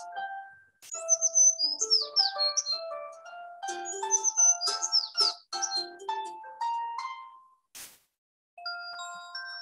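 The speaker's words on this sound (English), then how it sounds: "they both heard the sound of a beautiful bird perched on a tree, singing so beautifully" A bright songbird twitters and warbles in a tree, a quick run of clear, varied chirps and whistles that pauses briefly and resumes, heard alone with no voices.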